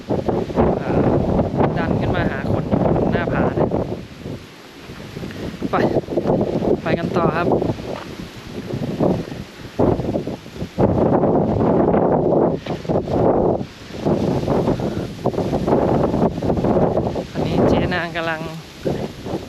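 Wind gusts against the clifftop viewpoint at Pha Mo E Daeng at sunrise, a loud, rough buffeting roar that rises and dips in waves, with someone talking continuously over it.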